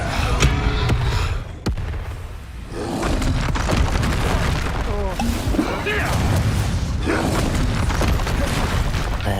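The Expulso exploding spell goes off in Hogwarts Legacy, with booming blasts and crackling debris amid dense game combat noise and a voice speaking.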